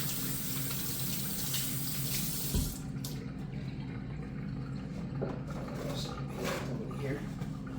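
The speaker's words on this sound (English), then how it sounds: "I already washed my hand, but I'm gonna just go ahead and double wash it" Hands being washed under a steady running kitchen tap while preparing wild deer meat, the water hissing continuously with small splashes and shifts in the stream; a voice talks faintly beneath it.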